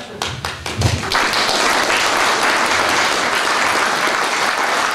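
An audience applauds at an evening book event in Chamonix, starting with a few scattered claps that swell after about a second into steady, dense clapping that holds to the end.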